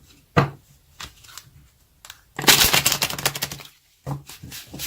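Deck of tarot cards being shuffled by hand at close range, with a few isolated snaps and taps followed by a longer riffle-like burst of rapid card clatter, then another short tap.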